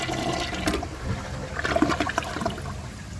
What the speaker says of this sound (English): I'm going to give that another flush once it refills and see if it can take the rest